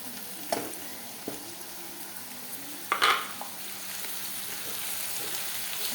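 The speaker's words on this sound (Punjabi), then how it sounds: "ਉਸ ਨੂੰ ਇਦਾਂ ਫਰਾਈ ਕਰਦੇ ਰਹਿਣਾ ਚੰਗੀ ਤਰ੍ਹਾਂ ਨਾਲ ਮਿਕਸ ਹੋ ਜੇ" Red chilies and spices fry in a pan for kadhi, making a soft, steady sizzle broken by a few clinks and scrapes of a spoon stirring, quiet and close with no voices.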